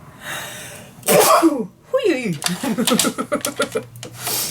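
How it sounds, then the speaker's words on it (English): A sharp, explosive sneeze bursts out close by, followed by voiced sounds and breathy noises. "Oh, I need to sneeze."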